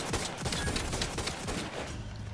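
Sustained rapid gunfire in The Outer Worlds 2, a volley of closely spaced shots cracking loudly and continuously, with the last instants thinning out.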